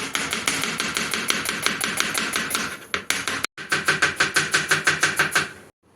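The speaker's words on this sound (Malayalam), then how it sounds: "സവാളയും പച്ചമുളകും തക്കാളിയൊക്കെ അരിഞ്ഞ് മുട്ടക്കറി വയ്ക്കാൻ പോകണം" Onion, green chilli and tomato being chopped for Kerala egg curry, a close, steady run of sharp knife strikes on a board with two brief pauses.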